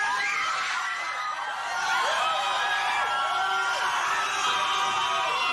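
Crowd of screaming fans at a concert, a continuous high shrill wall of cheers and shrieks that swells slightly after the first couple of seconds and stays loud throughout.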